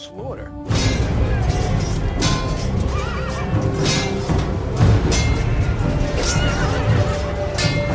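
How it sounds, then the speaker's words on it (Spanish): Horses whinny and neigh in distress amid a loud, chaotic battle din of crashes, hoofbeats and shouting, continuous from start to finish. "el relincho de dolor de un caballo"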